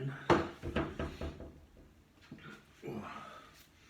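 The butt end of a golf club is knocked against a hard surface to seat a freshly fitted grip. A quick run of dull, close thuds comes first, then a few softer knocks and light handling noise in a quiet room.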